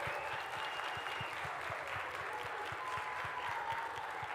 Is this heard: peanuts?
no